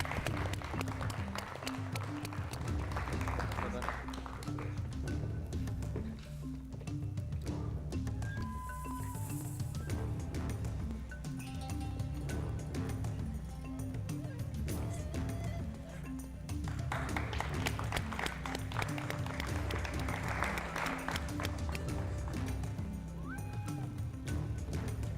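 Sustained applause from an audience at the EU-Fiji University Quiz Challenge 2017, with the quiz team called to the front. Steady clapping runs nearly throughout at moderate level and swells toward the end, with some background voices.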